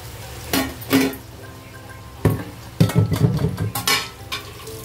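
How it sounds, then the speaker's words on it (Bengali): Marinated chicken being stirred into cooked spice masala in a pan, heard as several scraping, clattering bursts of a spoon against the pan over a low sizzle, close and uneven, with no talking. "একদম ভালো করে চিকেনটা নাড়াচাড়া করতে হবে।"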